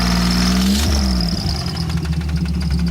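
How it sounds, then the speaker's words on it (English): A supercharged GM 3800 V6 in a Ferrari F355 replica, suffering rod or crank knock: the engine revs and then drops back, with a rapid metallic rattling knock beating steadily through the loud, continuous running. "The distinctive sound of rod or crank knock. Basic engine death. The rattles were horrific."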